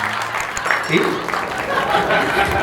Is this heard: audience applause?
yes